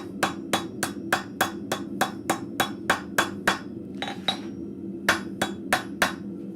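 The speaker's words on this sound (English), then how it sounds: "I'm letting the anvil do the work and not my hammer. I'm doing quite light taps here." Light, rapid hammer taps on an anvil while forging scrap metal into arrowheads in a blacksmith shop. About twenty sharp metallic strikes come in a steady rhythm, with a short pause before a final burst, close and clear.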